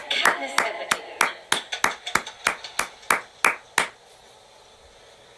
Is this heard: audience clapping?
yes